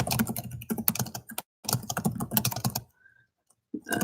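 Computer keyboard typing in two steady bursts of close, clicky keystrokes, separated by short pauses of near silence.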